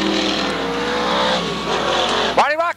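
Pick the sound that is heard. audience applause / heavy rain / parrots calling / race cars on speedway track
race cars on speedway track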